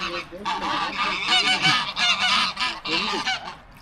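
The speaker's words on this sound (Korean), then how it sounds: "밑에 있는 호수공원 거위들이 천지네" Geese at a lakeside park below Pamukkale in Turkey honk loudly and repeatedly in a noisy overlapping chorus, close by and continuous throughout.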